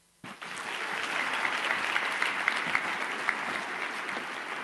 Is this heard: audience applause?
yes